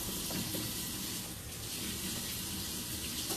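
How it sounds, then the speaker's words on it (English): Tap water runs steadily into a sink during handwashing in a home kitchen, a continuous broadband splashing hiss at close range with no talk. "let me wash my hands again"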